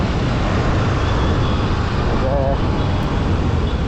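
Road traffic in a jam in Bhubaneswar, a dense, steady wash of engine and road noise that stays loud and unbroken throughout, with no clear individual horns or passes standing out.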